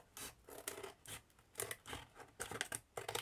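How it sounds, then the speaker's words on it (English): Large scissors snip paper for a miniature science lab diorama, about eight to ten crisp clipping cuts in uneven quick bursts, close and fairly quiet, with no talking. "Take my big scissors and I just want to clip it"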